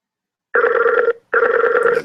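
Skype call ringing tone, two long electronic ring bursts with a short gap between them, clear and close with no talking.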